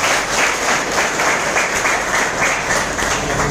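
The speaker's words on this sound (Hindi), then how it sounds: "जितेंद्र शर्मा जी के लिए एक जोरदार तालियां" Loud, steady applause from an audience at a business meeting in a hotel hall honoring Jitendra Sharma, dense clapping sustained evenly throughout with no voices on top.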